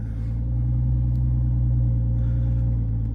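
The engine of a 425 hp Toyota Supra Launch Edition idles with a deep, steady rumble and rises slightly in a small rev, heard close from inside the car with no talking.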